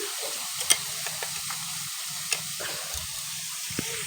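Steady sizzling of paneer frying in a pan, with a few soft clinks and scrapes scattered over the hiss.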